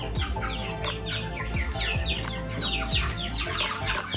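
Farm chickens cluck and chatter continuously at close range, with overlapping bursts of clucks from several birds scratching around the yard.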